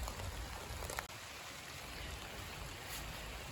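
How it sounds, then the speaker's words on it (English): Steady rain pattering on broad skunk cabbage leaves near a creek, a continuous soft hiss with dense patter and a low rumble underneath, no voices. "You can hear the rain hitting it."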